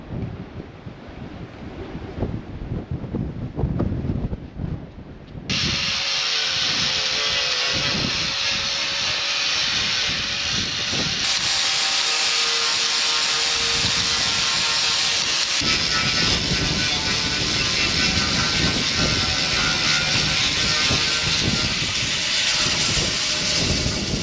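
An angle grinder stripping rust from a steel grain cart runs continuously as a loud, steady broadband hiss for about twenty seconds after a brief quieter start, with the pitch shifting slightly as the disc bites the metal.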